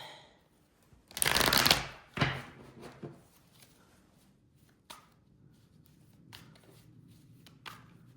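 Tarot cards are shuffled up close in one loud riffling burst, followed by a few softer card taps and handling clicks in a quiet room.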